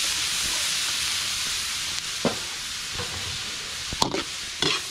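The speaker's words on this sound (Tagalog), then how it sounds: "susutay ko lang yung sibuyas sa butter mga ano to, star margarine" Onions sautéing in Star margarine in a large catering pan for a big batch of sisig, a steady close sizzle with a few sharp scrapes and stirring clatters.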